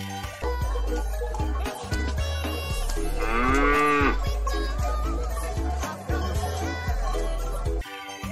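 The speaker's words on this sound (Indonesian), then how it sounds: "Wah, ini induk sapi." A mother cow moos once, loud and close, a drawn-out low call rising in the middle of busy toy-like music and rattling background sounds.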